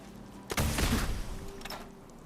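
A gunshot fired in the video game Fallout 4, a single loud, sharp report with a short trailing echo, followed by faint later sounds.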